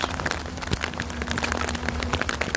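Rain patters steadily on and around a tent at a campsite, a dense spray of small ticking drops with a few sharper taps over a low continuous hiss.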